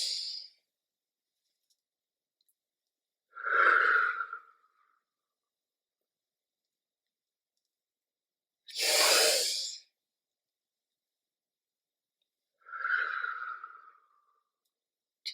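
Children taking deep breaths during a breathing exercise, three slow audible airy inhales spaced several seconds apart, close and clear with silence between.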